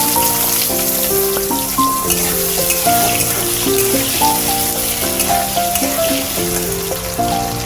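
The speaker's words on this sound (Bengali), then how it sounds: "আলুগুলো খুব সুন্দর ভাজা ভাজা করে নেব।" Potatoes fry in oil with black cumin, a bright, steady sizzle like rain on a surface, mixed under a prominent melodic music track that plays the whole time.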